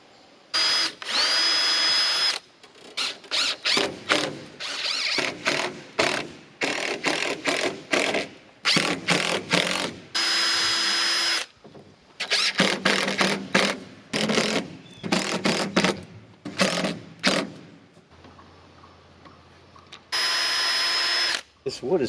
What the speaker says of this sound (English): I'm going to pre-drill this at the end because it's kind of splitting up a little bit.